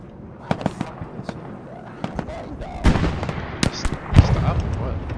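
Sharp gunfire cracks in the online war game Hell Let Loose, scattered irregular shots and short bursts at varying distances, with faint voices underneath.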